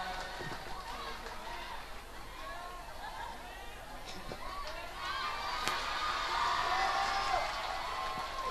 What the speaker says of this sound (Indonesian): Tepuk tangan yang meriah buat Yusuf Maulana.